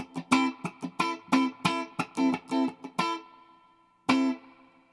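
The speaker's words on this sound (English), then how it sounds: "there's sort of like a brrr, kind of a fluttery sound to the reverb" Distorted electric guitar chops out a funky rhythm of short stabbed chords, the last one left ringing into a reverberant, fluttery decay.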